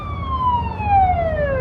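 Ambulance siren sounding on the road, a loud sustained wail whose pitch slides steadily downward as the vehicle passes, with low traffic rumble underneath.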